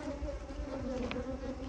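Honey bees from a large colony drone steadily at an opened hive, a faint, continuous buzz with no voices.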